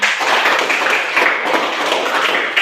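A school class claps together in a classroom, a dense, steady burst of many hands sustained for a few seconds, fairly close and loud, with no talking over it.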